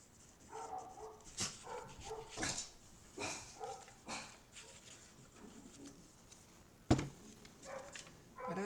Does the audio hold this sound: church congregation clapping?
no